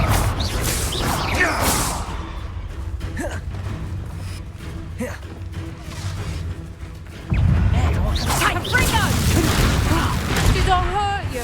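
A Confringo fire spell bursts in Hogwarts Legacy, a heavy booming blast with whooshing debris swelling loud in the latter half, amid game voices and combat noise.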